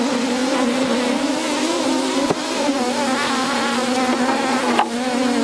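Honey bees buzz steadily on a frame pulled from a hive where new bees are emerging, a dense close droning hum that continues without pause and with no voices.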